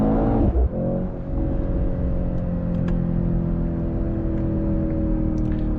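A 2025 Mercedes-AMG C63 S E, a 680 hp hybrid, accelerates hard; a quick gear shift breaks the engine note early on, then a steady, strong drone holds under light road noise.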